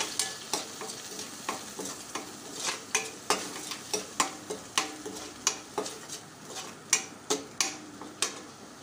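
Spiced masala of chilli powder, turmeric, asafoetida and garam masala stirred in a pan for a Maharashtrian veg thali, a steady sizzle broken by regular, close spoon scrapes and taps on the metal, with no talking.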